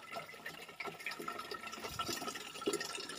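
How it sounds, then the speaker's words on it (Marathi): Water running from a tap into a container during the evening at a Konkan village home, a steady, fairly faint gushing splash that stays even throughout with no talking. "संध्याकाळच्या वेळेला पाणी भरायचे."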